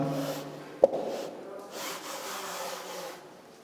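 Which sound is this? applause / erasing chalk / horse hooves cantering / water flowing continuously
erasing chalk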